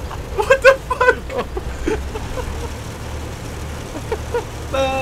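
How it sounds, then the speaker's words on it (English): A WWII-era car engine droning steadily while driving in the video game ARMA 3 Iron Front, a low continuous rumble under brief bursts of talk near the start. "I can barely hear you over the fucking car"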